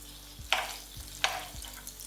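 Chicken pieces frying in oil and butter in a pan, a steady close sizzle with two sharp bursts of crackle and stirring scrapes, no voices.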